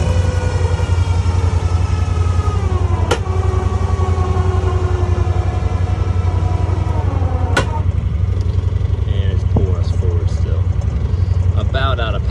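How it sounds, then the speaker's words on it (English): Tractor winch pulling during backhoe site-clearing work, a steady loud engine drone with a whining tone that slides down in pitch, punctuated by a few sharp metallic clanks and creaks. "All right, let's winch again."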